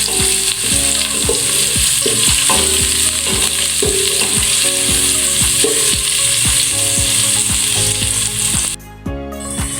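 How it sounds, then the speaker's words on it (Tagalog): Chopped onions sizzling and frying in a pan for Filipino-style spaghetti sauce, stirred steadily with repeated utensil scrapes and taps against the pan, loud and close throughout with no talking. "ilalagay na po natin ang pinong onions at muli po nating halo-haloin."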